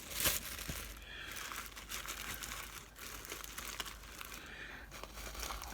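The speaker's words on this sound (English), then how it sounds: "So a nice plastic bag," Plastic crinkling and rustling close by, steady handling noise with a few sharper crackles throughout.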